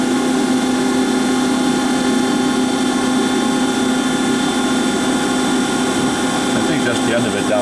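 A Weldon 1632 Gold CNC universal cylindrical grinder running through its program gives off a continuous, even mechanical drone with a steady whine. The sound stays loud and unchanging throughout.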